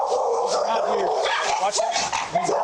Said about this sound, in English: they rush toward the sounds of barking coming from the backyard